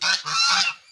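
Village fowl, goose-like, give loud, close honking calls in two or three quick nasal blasts with no voices present.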